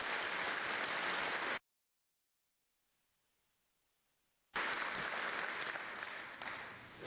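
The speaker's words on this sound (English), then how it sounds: "I want to give them another round of applause" A town hall audience bursts into dense applause that cuts off abruptly into near silence for a few seconds, then resumes just as loudly and continues to the end.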